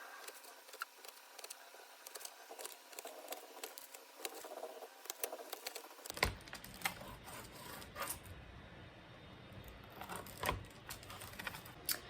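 Serrated knife sawing through baked vanilla bean biscotti, a close run of crisp, rapid crunchy scraping strokes in an uneven rhythm, with no talk.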